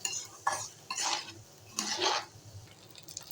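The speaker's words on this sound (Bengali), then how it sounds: "চাউল আর ডাউলটা দেওয়ার পর এটাকে আমি সুন্দরভাবে ভেজে নেব।" Rice and lentils for bhuna khichuri are stirred and fried in a pan, giving several close, soft scraping strokes of a spatula against metal with light rustling grains and gentle sizzle between them.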